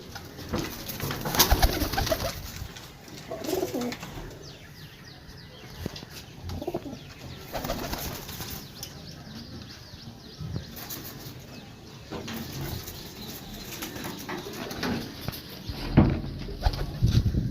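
Pigeons coo repeatedly in low, throaty murmurs amid rustling and occasional wing flaps, a busy flock heard close by with no talking.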